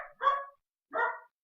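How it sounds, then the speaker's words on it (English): A small dachshund barks twice in the background, two short, fairly faint yaps about two-thirds of a second apart with quiet between them. "I apologize for the dog barking in the background"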